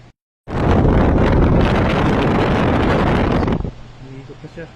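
A freshly repaired tower fan spins up and runs as a loud, steady whooshing rush of air for about three seconds, then cuts off abruptly, leaving a faint quiet room.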